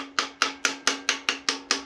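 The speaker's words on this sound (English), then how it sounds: "And then you might need a hammer for this" Eight sharp, evenly spaced metallic taps from a hammer striking a screwdriver wedged under an Austin Seven engine valve during a valve-grinding job, close and crisp, each ringing out briefly before the next.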